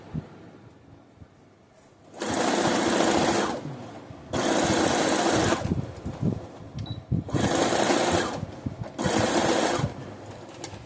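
A sewing machine stitches fabric for a quick top with matching buttons, running in four loud, steady bursts of rapid mechanical whirring separated by short pauses, including forward and reverse runs to lock the stitch.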